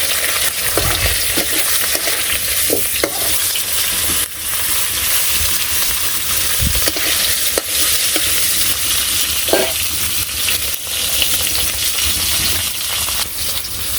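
Taro leaves cooked with a fish head and cumin, stir-fried over loud, dense, unbroken sizzling and crackling, with occasional clinks of a spatula against the pan, close up and with no one talking.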